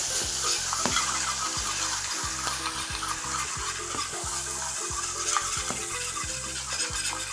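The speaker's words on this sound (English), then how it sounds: "now we're going to just do a quick deglaze to loosen up those little bits" Pan sizzling loudly as white wine deglazes the browned bits left from searing pork chops, a steady hiss with repeated scraping and stirring strokes, no voices.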